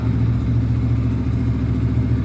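A 2015 Yamaha MT 125 ABS four-stroke engine idles steadily at a low, even rumble in an echoey space, with no talking.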